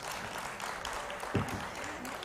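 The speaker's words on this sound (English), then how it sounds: "Let's have a huge round of applause for them." An audience at a software engineering conference's concluding plenary session claps for a foundation team, a faint, diffuse patter of applause heard from a distance with a brief thump partway through.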